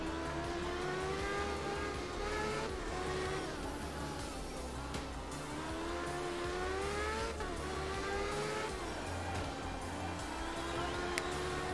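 Rally car from the video game Art of Rally revving steadily as it drives toward a repair point, the engine note rising and falling with gear changes, loud and continuous throughout with no talk.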